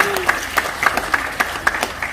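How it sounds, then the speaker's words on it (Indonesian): Applause from a seminar audience, a modest scattering of claps with a loose, uneven rhythm, fairly close, with a voice briefly audible beneath. "Tepuk tangan buat Bapak Ibu ya"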